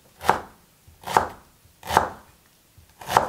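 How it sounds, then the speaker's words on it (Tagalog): A knife finely chopping onion on a board makes four evenly spaced, crisp thuds about a second apart, close and clear with no talk. "Hiwa tayo ng sibuyas. Pino lang."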